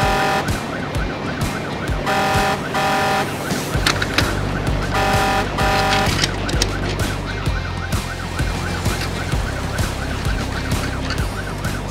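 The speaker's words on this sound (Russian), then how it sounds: "Когда пожарная машина едет на вызов" A toy fire engine from the GoGo Bus toy line sounds a loud, continuous wailing siren that repeats steadily with electronic tones and beeps over background music.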